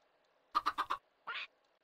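Minecraft chicken giving a quick run of four clucks, then one longer rasping squawk after a short pause, close and clear against near silence.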